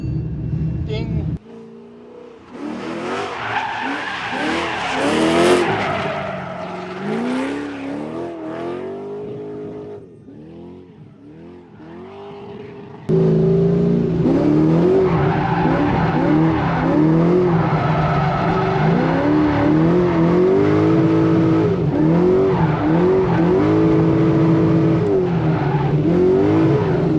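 A widebody Corvette drifting on a track's South course, engine revving hard and tires squealing in long wavering screeches, loud and close, with a voice talking over it.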